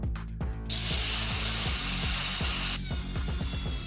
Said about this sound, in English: I'm using my angle grinder again to cut it and then put a slight angle